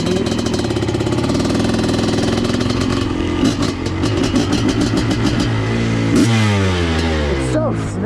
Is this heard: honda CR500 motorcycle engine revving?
yes